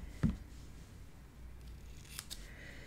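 Scissors trimming paper pieces for a mini album, a single sharp close snip followed by faint rustling in a quiet room.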